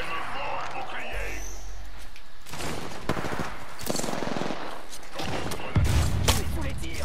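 Rapid automatic gunfire bursts crackle in an Apex Legends arena match, dense volleys of shots layered over game effects and a low rumble, with a voice speaking through the action.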